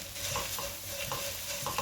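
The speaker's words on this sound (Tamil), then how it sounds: "இது சும்மா எண்ணெய்லாம் ஊற்றக்கூடாது, சும்மா ட்ரையாக வதக்கிக்கலாம்." Curry leaves and coriander are dry-sautéed in a pan with no oil, giving a soft crackling sizzle broken by quick, repeated stirring scrapes, close and quiet without any talk.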